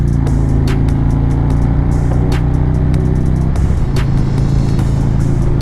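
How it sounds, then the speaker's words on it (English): A motorcycle engine runs loud and close with a heavy, steady low rumble as the throttle is cranked, with engine pitch shifting slightly partway through and intermittent rattling clicks throughout. "it's always so fun to crank the throttle, lean the bike over."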